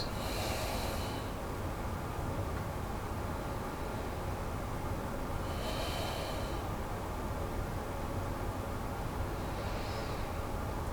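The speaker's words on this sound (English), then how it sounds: "And exhale for the count of 6. Three normal breaths." Slow, audible exhalations emptying the lungs, three soft breaths spaced several seconds apart over a constant background hiss, with no talk.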